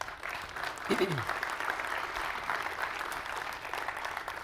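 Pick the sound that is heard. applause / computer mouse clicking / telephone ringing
applause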